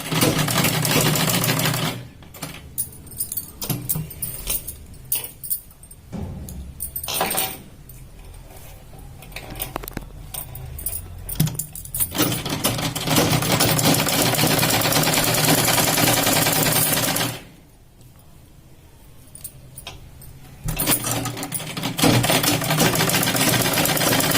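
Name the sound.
sewing machine stitching a katori blouse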